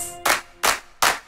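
Three loud, evenly spaced hand claps, about 0.4 seconds apart, land on the beat of a lively children's dance song, each one a sharp burst that fades quickly.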